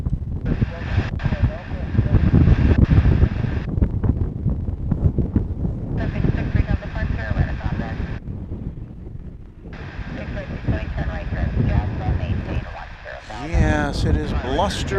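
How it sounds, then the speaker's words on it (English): Blustery morning wind at DFW International Airport buffets the microphone in loud, rumbling gusts that rise and fall throughout, while someone speaks over it. "it is blustery here this morning"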